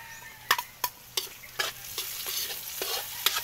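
Garlic sautéing in a pan for a seafood coconut-milk dish: a soft steady sizzle broken by sharp repeated scrapes and clinks of a spatula stirring, close and fairly quiet.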